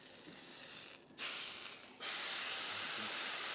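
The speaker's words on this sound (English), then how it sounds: "we are going to start with bacon down" Bacon laid down on a hot griddle sizzles with a loud, steady hiss that jumps up sharply after a short pause and then holds, close and without talk.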